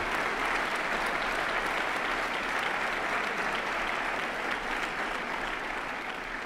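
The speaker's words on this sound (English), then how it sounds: "Whitney, yeah, let's give her a round of applause." Loud, continuous applause from an audience at a city's State of the City address, a thick wall of many hands clapping that holds steady throughout.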